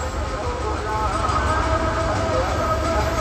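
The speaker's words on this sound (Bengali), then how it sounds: "ওই যে ট্রেন দেখার জন্য দাঁড়িয়ে গেছে ছাদে" A train passes close by a rooftop where people stand watching, a steady broad rumble with faint wheel clatter and voices beneath it.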